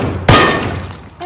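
A supply box is opened in a first-person shooter game: one sharp clanking thunk with a bright metallic rattle, followed by a brief ringing decay and another short tonal game sound near the end.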